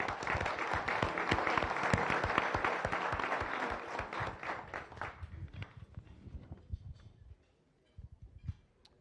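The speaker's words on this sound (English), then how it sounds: "a warm round of applause from all of our visitors and guests" Room of visitors and guests at a Rotary Club meeting clapping, a fairly close round of individual claps that fades out after several seconds, leaving a few scattered claps.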